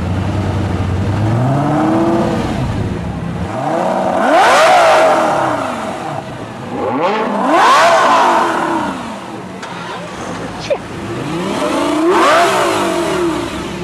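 A Lamborghini Gallardo engine revs hard three times, each loud burst climbing sharply and then falling away, close to the listener with no talking.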